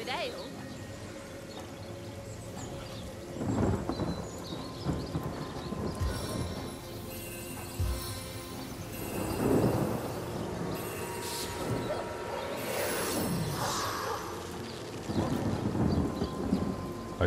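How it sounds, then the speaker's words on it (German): Rain and rolling thunder conjured by a spell in Divinity: Original Sin, rumbling bursts over a steady wash of rain, with horse hooves and a voice talking over the storm. "Muss mal kurz Regen machen."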